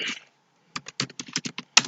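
Short bursts of typing on a computer keyboard while entering a value into a text box in an ASP.NET web form, about nine sharp clicks in a quick uneven run after a brief opening clatter, close and clear with no talking.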